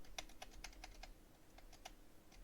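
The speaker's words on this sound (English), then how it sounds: "Magic keyboard." Typing on a Magic Keyboard, a quiet, steady run of light close key clicks with nobody talking.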